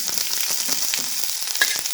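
Garlic, ginger and chillies sizzle steadily in hot tempering oil with curry leaves, a constant bright crackling hiss with small pops, no voices.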